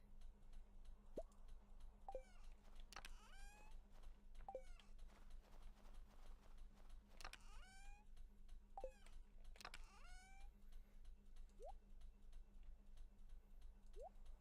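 A house cat gives several short meows and chirps, spaced irregularly and fairly quiet, over a low steady hum and faint ticking.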